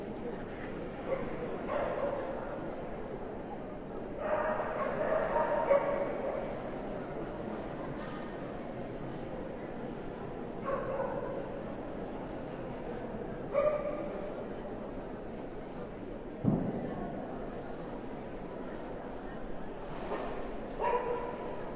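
Dogs at a hound group dog show: a few short yips and barks sound at moderate distance over the murmur of a large hall, with a public-address commentator talking steadily across the clip.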